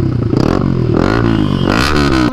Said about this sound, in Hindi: अपनी बाइक का एग्जॉस्ट जो है वो लग चुका है